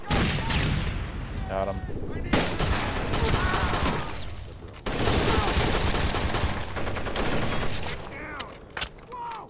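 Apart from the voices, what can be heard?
gunfire and grenade in a video game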